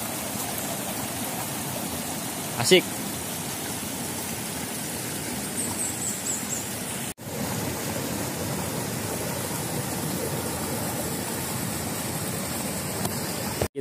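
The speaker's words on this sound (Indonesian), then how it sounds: "Di tengahnya ada sungai kecil nih." A small river flows at a campground in Pondok Halimun, Sukabumi, giving a steady rushing wash throughout, with a brief squeal early on and a short spoken word.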